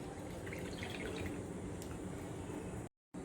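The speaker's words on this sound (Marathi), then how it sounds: "आणि पाणी घालायचं आहे." Water pours into a glass of raw mango panha with ice and mint leaves, a steady soft trickling and splashing that runs continuously before stopping abruptly.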